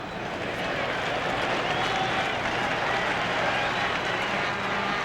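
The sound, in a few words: Toronto ballpark crowd applauding at World Series game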